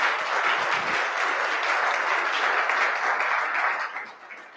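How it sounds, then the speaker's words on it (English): A city council meeting audience gives sustained applause, a dense, even wash of clapping that holds steady before tapering off at the end. "let's give them a round of applause."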